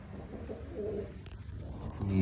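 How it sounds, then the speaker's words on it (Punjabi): Female pigeon cooing from under a basket indoors, a low soft murmur in a room, with a closer, stronger rise of sound at the end. "ਹੋ ਦੇਖੋ ਕਬੂਤਰੀ ਬੈਠੀ ਥੱਲੇ ਉਹਦੇ"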